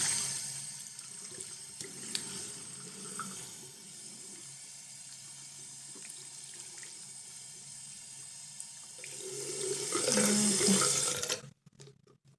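Running tap water pours steadily over straight Brazilian hair extensions being rinsed in a sink, a continuous close hiss that swells near the end before cutting off.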